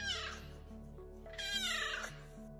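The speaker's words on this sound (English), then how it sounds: "The Savannah Cat is a crossbreed of a domestic cat with an African serval" A large Savannah cat, a domestic cat crossed with an African serval, gives two drawn-out, wavering meows with a loud, close, yowling quality over a low steady hum, with no voices.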